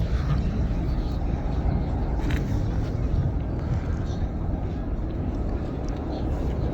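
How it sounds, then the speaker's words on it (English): A plane landing at Manchester Airport, heard from the runway visitor park, makes a steady, heavy low roar that holds evenly throughout with little change in loudness. "Now I'm not looking at flight radar for any of these landings, so I don't know what plane that is"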